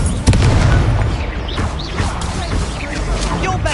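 Incendio fire spell blasts in the video game Hogwarts Legacy, a sharp loud boom at the start followed by crackling bursts and busy combat noise, with voices calling out over the fight.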